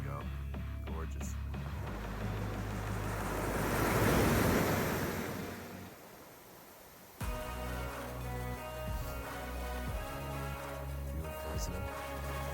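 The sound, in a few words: ocean waves breaking on the shore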